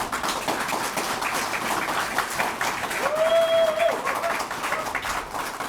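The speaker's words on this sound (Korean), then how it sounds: "함께 큰 박수로 응원해 주십시오" Audience at a mayoral candidate's press conference breaks into sustained applause, a loud, even wash of many clapping hands throughout, with a brief whistle or tone rising partway through.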